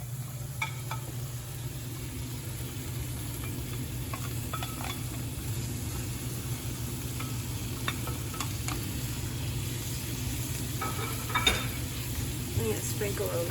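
Greens sizzle in a pan of ghee with herbs during holiday cooking, a continuous close frying hiss with scattered light stirring scrapes and a low steady hum beneath.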